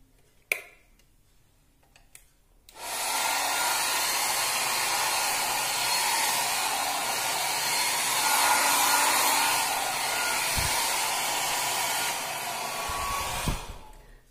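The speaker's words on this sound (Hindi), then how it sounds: "अब मैं थोड़ा सा हेयर ड्रायर से अपने बाल सुखाऊंगी।" A handheld hair dryer drying freshly washed wet hair indoors, starting after a click and a few seconds of quiet, then a loud steady whoosh of blowing air that wavers slightly as it moves and continues to the end.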